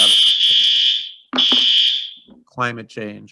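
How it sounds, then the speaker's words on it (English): A fire alarm sounds over a video call as two long, loud, high electronic tones, each cut off abruptly, followed by a person speaking briefly. "Someone has a fire alarm or something going on there."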